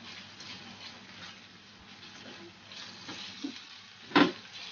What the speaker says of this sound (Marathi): चांगली अद्रक लसूणची पेस्ट परतून घेऊया आपण